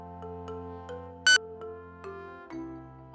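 A mobile phone ringtone plays a repeating melodic electronic tune of sustained tones, with one brief bright burst partway through.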